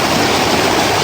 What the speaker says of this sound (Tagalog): Pakinggan nyo yung tunog ng tubig